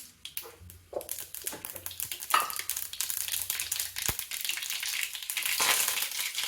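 Mustard seeds and cumin sizzle in hot oil for a red cabbage dish, with a steady, loud crackle and popping spatter that builds slightly over time. No one speaks.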